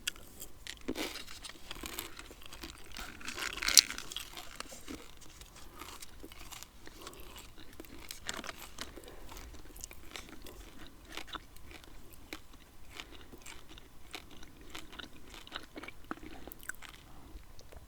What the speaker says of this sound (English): I'm going to pop that in my mouth and start chewing.